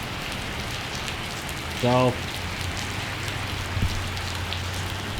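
Light rain falls outdoors at an old train station, a steady soft hiss of drops under a brief spoken word from a nearby voice.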